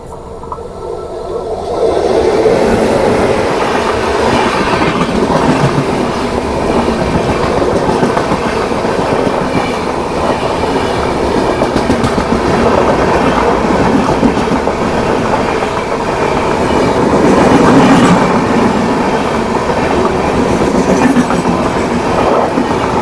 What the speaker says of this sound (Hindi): वो ट्रेन पास में आ गई, लेकिन लोग अभी भी ट्रैक से हट नहीं रहे हैं।